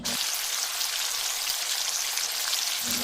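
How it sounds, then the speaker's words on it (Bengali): Chicken puri deep-frying in hot oil gives a steady, dense crackling sizzle throughout, close and fairly loud, with no talking. "এক এক করে চলে যাচ্ছে তেলের ভেতর আমাদের চিকেন পুরি"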